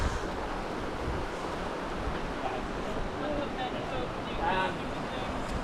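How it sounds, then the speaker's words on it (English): Steady broadband rush of a river flowing in Yosemite, close and continuous with wind buffeting the microphone, and brief faint voices in the background. "we're trying to figure out how to get across this river right here."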